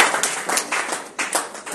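Church congregation applauding during a Friday worship service, a steady wash of hand claps with rising and falling swells, moderately loud and close, with no clear speech over it.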